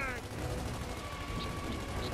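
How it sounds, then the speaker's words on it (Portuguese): Gunfire in the video game Gears of War 3, a dense continuous clatter of automatic shots under steady talking, loud and without a break throughout. "Tirando lá em cima que tá tendo tiro."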